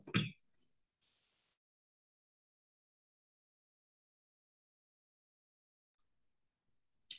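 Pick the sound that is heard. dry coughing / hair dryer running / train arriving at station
dry coughing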